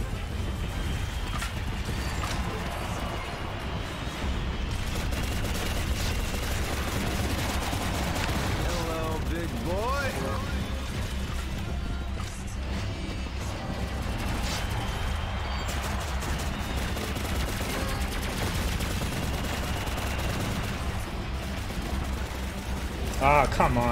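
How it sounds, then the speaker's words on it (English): Rapid automatic gunfire from boss fights in the mobile shooter Shadowgun Legends, dense and continuous bursts over game music and effects, with a player talking at times. "Yeah, I have to shoot the boss guys."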